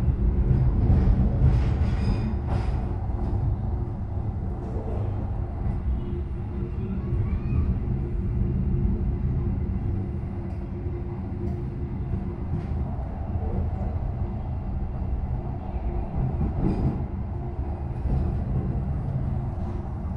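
The KA Argo Muria train rides the rails between Jakarta and Semarang, heard from inside as a steady low rumble with faint rhythmic wheel clatter and occasional brief squeals, continuing evenly for about twenty seconds.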